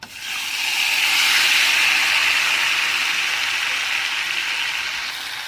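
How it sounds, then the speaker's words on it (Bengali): Paste of onion, garlic, ginger, cumin and green and dried chillies frying in hot oil for chicken, producing a steady loud hiss that swells quickly and then eases slightly over about five seconds, close with no voices. "ভালো করে এটা কষিয়ে নেব এইভাবে মশলাটা কষানো হয়ে গেল"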